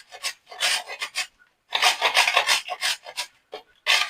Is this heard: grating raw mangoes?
yes